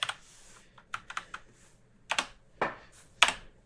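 Computer keyboard keys clack in short irregular bursts, a few quick taps, then pauses, then more keystrokes, close by and fairly soft, with no talk.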